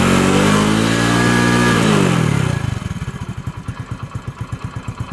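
A Honda Pridor 100cc motorcycle is kick-started and churns loudly, then settles into a steady, rhythmic putt-putt idle of a small single-cylinder bike, close up.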